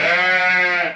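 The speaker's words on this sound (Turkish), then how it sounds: "Geri kalan bütün kuzuları buraya aldım." A lamb bleats in a pen, one loud, close, sustained quavering cry that fades at the end.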